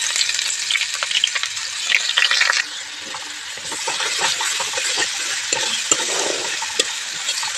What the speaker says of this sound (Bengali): তেলটা গরম হয়ে গেছে আমি আমি এবার এখানে দিয়ে দেবো হচ্ছে পেঁয়াজ বাটা আদা বাটা রসুন বাটা